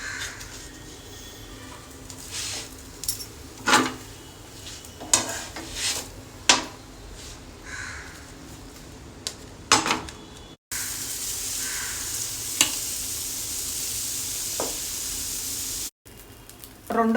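Instant poha dosa cooking in a covered pan, with clinks and taps of pots and utensils in the first part, then a steady soft sizzle under the lid, fairly close and without talk.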